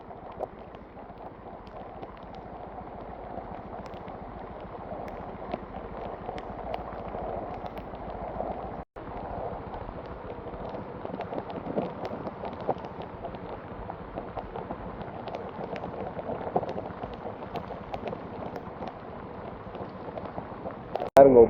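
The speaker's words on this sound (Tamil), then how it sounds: "பாருங்க எப்படி ஓடிக்கொண்டிருக்கு வெள்ளம் இங்கே" Floodwater rushing through a temple area in Jaffna after a sudden heavy downpour, a steady broad wash of flowing water and rain noise, fairly close and continuous, with a brief dropout midway and a sharp knock at the very end.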